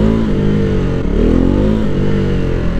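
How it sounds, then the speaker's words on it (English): A KTM Duke 390 single-cylinder motorcycle accelerates hard in first gear, its loud, close engine note rising steadily with a brief dip near the middle, heard alone without talk. "Let's see how much first gear's got."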